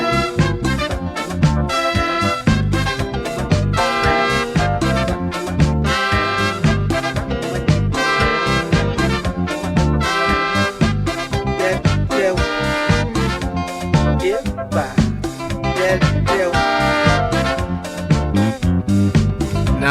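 Ghanaian highlife song playing loud and continuous on a radio breakfast show, with dense rhythmic percussion, bass and layered melodic vocals and instruments throughout, no talk over it.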